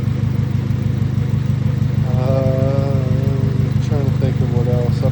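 A Honda Civic CX engine with ARP head studs and new valve springs runs steadily at idle, a constant low mechanical drone throughout while a person talks over it.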